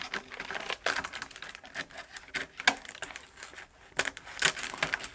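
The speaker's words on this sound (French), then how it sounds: "on prend un cutter ou des ciseaux pour retirer tout l'entoilage qui va nous gêner" A cutter or scissors cutting and pulling away the film covering on a damaged RC airplane, giving dense crinkling, crackling and ticking bursts at close range, irregular and fairly quiet, with no voices.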